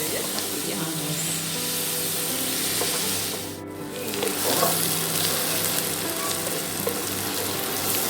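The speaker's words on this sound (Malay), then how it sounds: "Kita tumis bawang ni hingga layu dan tiram. Kena kacau senantiasa ya, takut dia hangus." Onions sauté in a pan for French onion soup, a loud continuous sizzle with scraping from stirring and a short dip in the middle, with some voice faintly in the background.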